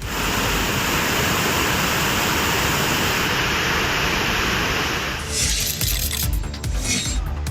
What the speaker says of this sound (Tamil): பஞ்சலிங்க அருவியில் வெள்ள நீர் பாய்ந்தது